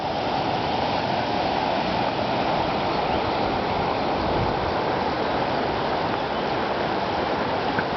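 The Grajcarek mountain stream rushing steadily, a dense continuous roar of water close by, unbroken and with no voices.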